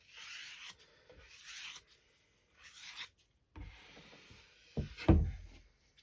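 Paint prep on a Mustang: several short scraping strokes close to the mic, separated by quiet pauses, followed by softer rubbing and a couple of thumps as excess is wiped onto a rag.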